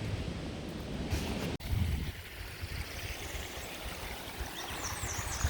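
Water from a spring at Big Spring rushes in a steady broadband wash, loud and close, with one brief dropout near the start and no talking over it.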